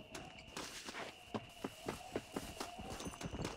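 Horse hooves clip-clop in a steady trotting rhythm, moderately close, with a faint background hum, in the video game Red Dead Redemption.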